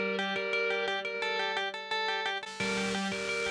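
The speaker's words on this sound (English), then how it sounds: "So here's the beat delay." Guitar run through a beat delay effect in Maschine, with rhythmic repeating notes and echoes pulsing steadily before a brighter, denser shift near the end; loud and alone, no talking.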